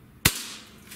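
One sharp, close crack from a Xisico Sentry .177 caliber PCP air rifle, with a short fading tail and nothing else.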